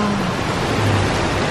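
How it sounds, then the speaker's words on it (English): Heavy rain pours outside in Bangkok, a dense, unbroken hiss that holds at an even level for the whole short stretch. "It's time for lunch, but look at, it's pouring outside."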